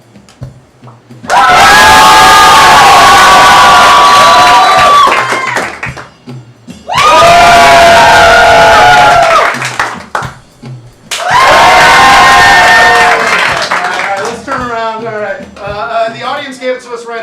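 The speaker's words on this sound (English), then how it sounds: "I just want you to hoot, holler, applause" Audience at a live improv comedy show hoots, hollers and applauds in three loud sustained bursts with short pauses between, ending with a voice talking.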